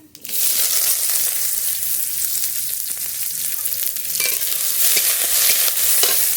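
Chopped onion fries in hot mustard oil in a kadai with cumin seeds, making a loud, steady sizzle with scraping stirring strokes throughout, close by and with no voices.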